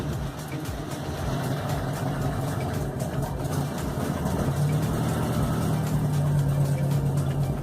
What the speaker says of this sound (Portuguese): vamos fazer o carro pegar